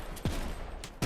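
Sniper rifle fire in the video game KOMPETE: two sharp, close shots about three quarters of a second apart over a low background hum.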